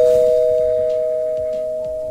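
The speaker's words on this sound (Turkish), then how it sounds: "Kapının zili çaldı." A doorbell rings with one sustained electronic tone that holds steady and slowly fades over about two seconds, with faint background noise and no speech.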